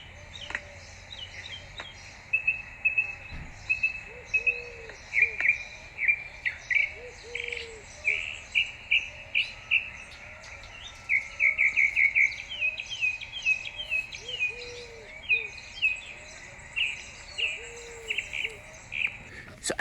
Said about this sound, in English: if you've ever heard a bird that is making very consistent sounds, very loud sounds